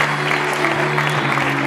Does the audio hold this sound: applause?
yes